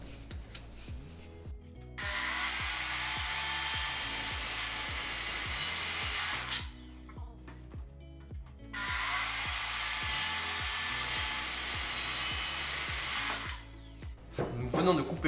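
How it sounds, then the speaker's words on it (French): Two long stretches of a circular saw ripping through pallet wood to cut legs for a headboard, loud and close, each pass starting and stopping abruptly with quieter gaps between. "Nous venons de couper les pieds de notre tête de lit"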